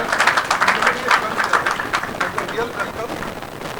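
An audience applauds at a celebration for chef Vikas Khanna's appointment as global brand ambassador, a continuous wash of clapping that is loud at first and gradually eases off.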